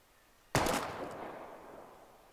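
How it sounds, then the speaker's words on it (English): A single gunshot fired at bottles in a junkyard in the Life is Strange video game, one sharp loud crack followed by a long fading echo, with no other sound. "We're gonna shoot all these bottles without wasting a single bullet."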